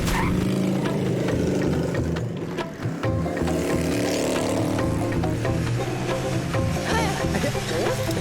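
A cartoon motorbike rides along with its engine droning steadily and loudly throughout, mixed with voices and background sound.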